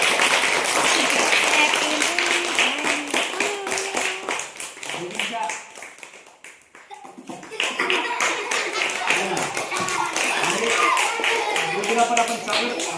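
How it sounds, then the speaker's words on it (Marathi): A group of students clapping together at a classroom birthday celebration, sustained applause with a voice speaking over it, dipping briefly midway before rising again. "सगळ्यांनी टाळ्या वाजवा"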